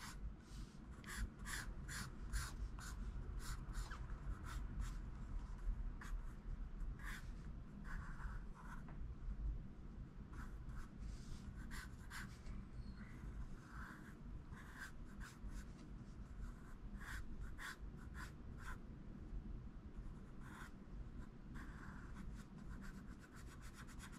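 Ebony pencil strokes scratching and rubbing across paper while sketching a cartoon character, a steady close-up series of short rasping strokes with brief pauses, continuing for the whole stretch with no talking.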